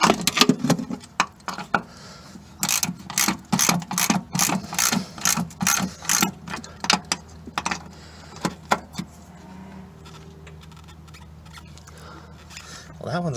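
Ratchet loosening bolts on a Mazda 3 rear shock, a loud, rhythmic series of clicking strokes for about nine seconds, then stopping, with a person talking.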